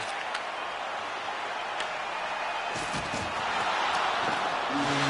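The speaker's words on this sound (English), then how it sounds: "the crowd's on their feet, saluting the team after a hard-fought effort this evening" A crowd in the EASHL hockey video game rises into steady, broad cheering and applause that swells toward the end, with a few sharp arena sounds scattered through.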